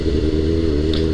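An old motorcycle without ABS being ridden, its engine giving a steady low droning rumble that holds close and loud throughout, with no speech.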